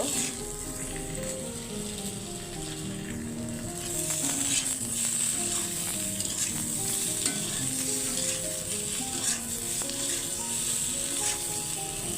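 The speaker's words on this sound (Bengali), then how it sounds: "ডিম ভাজা শেষ এখন আমি আলুগুলো একটু ভেজে নেব" Potatoes frying in a pan on a home stove, a continuous loud sizzle with stirring scrapes and spatters, swelling slightly halfway through and holding steady with no talk.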